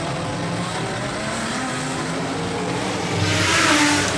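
Super sedan race cars accelerating on a speedway track at night, a loud sustained engine roar that swells into a nearer rev toward the end, with no talk.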